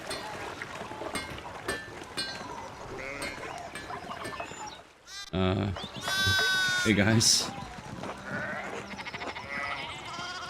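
Sheep in the medieval adventure game Pentiment bleat loudly for a couple of seconds over game music, near and clear, after a brief greeting spoken at the start.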